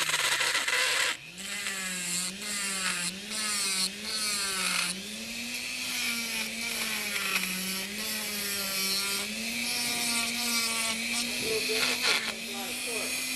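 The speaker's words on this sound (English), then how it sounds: "the Dremel tool has a lot more torque than your slow-speed handpiece, so this is going much faster" A Dremel rotary tool grinds an autocure acrylic resin custom dental tray, its high whine wavering steadily in pitch as the bit bites in, close and continuous throughout.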